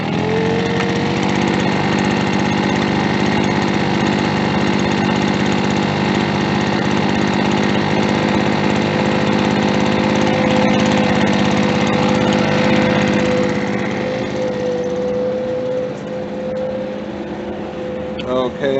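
A VEHPRO gas leaf blower engine runs steadily at a loud, close, buzzing drone that holds throughout and eases slightly near the end.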